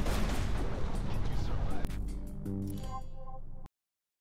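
Turret gunfire in the space shooter Everspace 2, a dense, loud barrage of rapid blasts that thins into a few tonal pops and chimes before cutting off abruptly.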